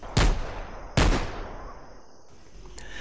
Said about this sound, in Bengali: আমি তার ভিলার সামনের বিশাল জায়গাটায় গিয়ে বন্দুক দিয়ে লক্ষ্যবিদ্ধ করবার প্র্যাকটিস শুরু করলাম।